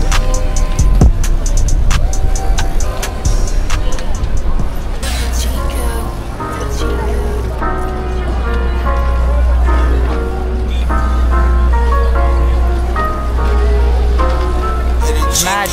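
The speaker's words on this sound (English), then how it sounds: "Traffic." Street traffic rumbles during a crowded Halloween ride through New York City, with loud voices and music-like tones on top of the low engine noise.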